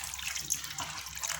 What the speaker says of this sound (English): and we add water now.